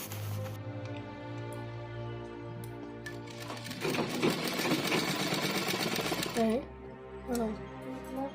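A sewing machine stitches piping on a blouse in short whirring runs, close and mechanical, with pauses and someone speaking over part of it.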